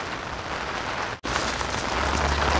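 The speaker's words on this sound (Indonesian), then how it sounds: "Dan hujan pun masih terus saja berlanjut." Steady, dense rain falling close by in Korea with a brief dropout partway through, broadband hiss continuing evenly with no voices.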